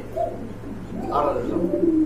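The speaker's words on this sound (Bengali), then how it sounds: "খুবই অ্যাগ্রেসিভ কবুতর" Soft pigeon coos rise and fall over a low steady hum, with faint background voices in a busy indoor space where Satin pigeons are being sold.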